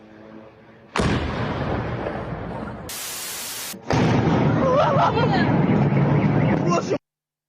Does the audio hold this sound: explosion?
yes